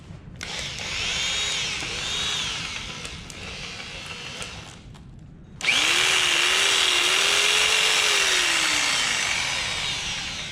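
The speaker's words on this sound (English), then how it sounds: "a jigsaw is kind of interesting." An electric jigsaw picked up at a tool auction runs with a high buzzing whine that rises and dips. It cuts off briefly and then restarts louder and steadier, close by, with no talking.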